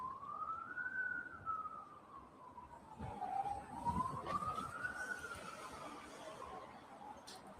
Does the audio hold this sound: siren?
yes